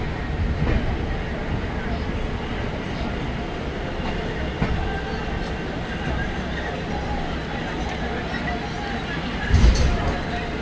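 A train rolls and brakes at a railway station with a continuous rumbling clatter and a brief squeal near the end, while a person talks over it.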